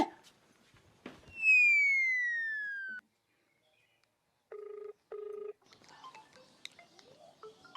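A phone rings twice with short electronic tones after a rising chime, faint and quiet, followed by soft background rustling.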